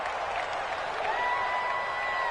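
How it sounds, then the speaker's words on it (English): Steady, dense roar of a home stadium crowd in an American football video game on PS4, loud and continuous throughout with no talk over it. "The crowd's not doing that O-line any favors."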